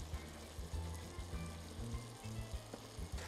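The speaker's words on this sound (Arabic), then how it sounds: "مقلايه كثير حاميه، رح نزل عليها زيت نباتي، الدجاج، المقلايه حاميه رح انزل فيها" Chicken thighs sizzle in vegetable oil in a very hot frying pan, a steady close crackle with low bubbling pops and no voices.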